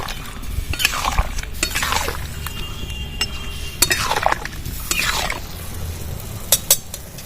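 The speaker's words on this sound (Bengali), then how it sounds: "রসে আমগুলো ভালো করে নাড়াচাড়া করে দেবো" Raw mango pieces stirred in their own juice in a bowl for pickle, giving wet clinks and scraping strokes in repeated bursts, fairly close and alone with no talk.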